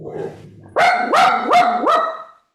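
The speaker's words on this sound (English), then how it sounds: "Someone has a dog." A dog barks loudly nearby in a group discussion setting, giving four quick barks in a row after a brief low murmur.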